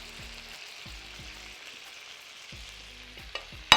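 Salmon sizzling in a pan of honey butter sauce with Old Bay, a soft steady frying hiss with a few stirring scrapes and a sharp clink at the end, near and moderate.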